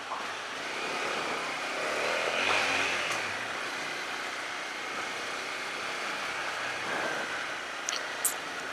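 Honda CRF250 motorcycle riding through the streets of Kathmandu, a steady broadband engine and road roar that swells slightly around the middle, with faint passing traffic and a couple of brief sharp ticks near the end.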